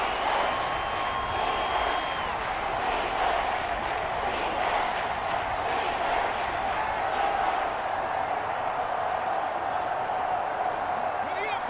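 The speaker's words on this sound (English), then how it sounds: "This crowd doing all they can" Stadium crowd at an NFL football game, Kansas City Chiefs versus Washington, a steady loud roar filling the whole stretch with cheering swells, while a commentator talks over it.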